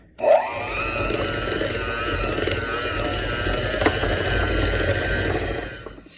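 An electric mixer whirs steadily through pumpkin cookie batter with sugar and vanilla, starting with a sharp onset and then a continuous motor drone that fades out at the end.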